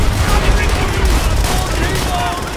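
Continuous, dense gunfire in the co-op mission Downfall of Call of Duty: World at War, loud and close with overlapping shots and no clear gaps.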